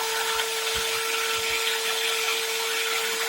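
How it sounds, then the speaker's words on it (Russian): An electric drill spins a car alternator on a bench, giving a steady, loud whirring hum with a constant pitch through the whole stretch, with a few faint low knocks underneath. "И теперь при помощи дрели буду проворачивать генератор."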